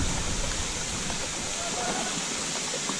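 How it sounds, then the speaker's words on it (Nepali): A small waterfall on a monsoon hike near Chisapani, Shivapuri and Sundarijal gives a continuous, steady rush of falling water, loud and close. The flow sound fills the whole span, and faint voices may sit beneath it. "बर्खामा नि झर्ना किन सानो हेर"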